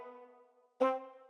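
A sustained amapiano brass chord rings and fades, then a second brighter brass chord sounds with a sharp attack, played cleanly with no voices.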